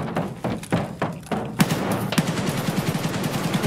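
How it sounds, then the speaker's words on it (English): Gunfire in a multiplayer video game set in a factory: a series of sharp shots, first spaced bursts and then a denser, steadier stretch of firing at moderate distance, with no talk over it. "Who's shooting?"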